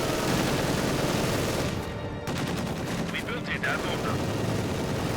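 Heavy machine gun fire rattles in a Company of Heroes 2 battle among church ruins, a dense, continuous barrage of shots and battle noise with a commentator talking over it.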